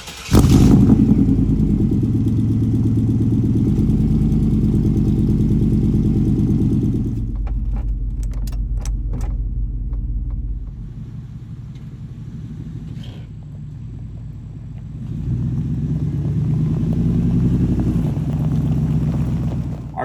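A 1996 4x4 engine drones loudly and steadily as the vehicle drives down the road, the rumble easing off midway before building back up, with a few light clatters over the top.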